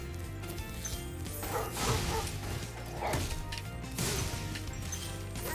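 Dogs in the Artisans world of Spyro the Dragon Reignited, with short barks and yips among smashing, whacking game effects over a constant busy background music bed.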